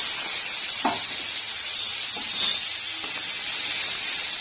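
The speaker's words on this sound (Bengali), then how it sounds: "তেল গরম হয়ে গেছে, এবার মাছটা দিয়ে দেবো।" Prawns frying in hot mustard oil in a kadai, a steady broadband sizzle and hiss throughout with a few faint clinks, no talk.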